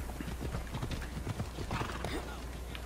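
Steady clip-clop of horse hooves trotting in Assassin's Creed Odyssey, with a whinny mixed in, all under a low constant hum.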